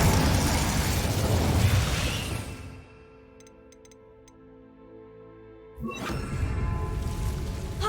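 The Incendio fire spell in the Hogwarts Legacy video game bursts with a loud, roaring whoosh of flame, dies away to a quiet lull with faint magical chimes, then erupts again in a second fiery blast.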